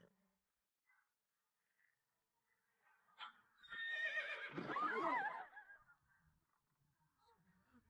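A horse neighs loudly once, a long shaky whinny that rises and then trails off, set against near silence with faint sounds before and after.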